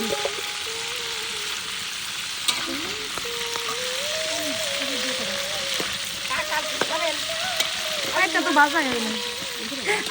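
Oil sizzles and spatters steadily in a frying pan at an outdoor village picnic cookout, a continuous hiss with a few sharper pops, while people talk over it and a voice exclaims near the end.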